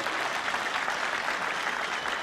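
Sustained crowd applause fills a hall at an indoor bowls match during the 2020 World Indoor championship, a dense, steady clapping that stays loud and even throughout with no talk over it.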